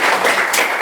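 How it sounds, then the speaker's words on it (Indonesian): Short burst of classroom applause for a classmate during a Hindu religion lesson, a dense wash of hand claps from students, fairly loud and steady, with no one speaking over it. "Silakan tepuk tangan buat temannya."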